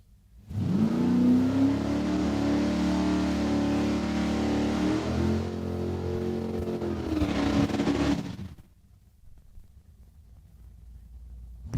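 A 2014 Mustang launches hard down a drag strip at Saskatchewan International Raceway, its loud engine revving and rising through gears for about eight seconds before cutting off abruptly, leaving quiet background.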